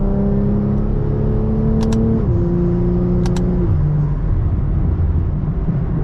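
A BMW M340i fitted with a catless downpipe exhaust burbles loudly and close up, its deep steady drone dipping in pitch twice as the revs fall, with faint crackles over it.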